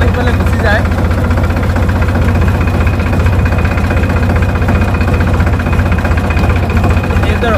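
A new tractor engine runs steadily while being driven through a field of groundnuts, a continuous low, throbbing drone with a rhythmic knock that stays loud and unbroken throughout.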